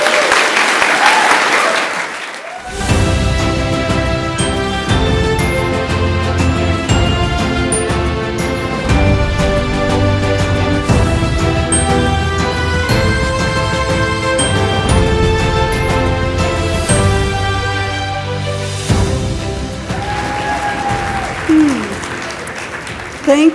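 Audience applause at the 78th Annual NCS Reuben Awards ceremony in San Diego, loud sustained clapping with tonal music running through most of it, fading at the end.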